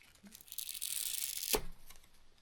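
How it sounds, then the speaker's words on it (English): A small rounded corner is cut from the edge of a climbing skin for a classic cross-country ski, a close, steady scraping rasp lasting about a second and a half and ending in a sharp snip. "just do a small round corner cut"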